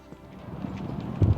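Horse hooves clip-clop on the ground in the medieval game Kingdom Come: Deliverance, soft at first and then a few louder, closer hoofbeats near the end over faint wind.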